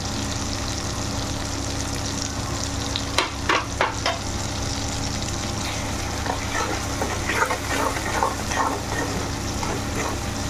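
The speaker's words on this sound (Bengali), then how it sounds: "স্বাদ অনুযায়ী লবণ দিয়ে ভালো করে মশলাটাকে কষাবো" A spice masala with chilli powder, turmeric and salt fries in a pan for Bengali cholar daler dhoka, a constant sizzle with scattered stirring scrapes and splutters and no talking.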